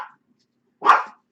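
A dog gives a single sharp bark in a quiet room, preceded by a faint, brief trailing yelp, with no talking over it.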